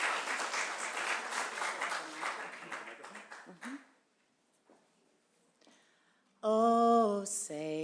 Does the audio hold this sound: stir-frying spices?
no